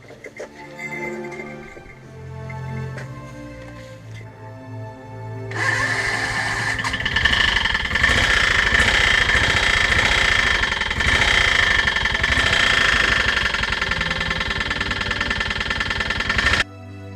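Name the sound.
chainsaw engine running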